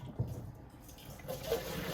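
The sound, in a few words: water drained out of a pot of boiled potatoes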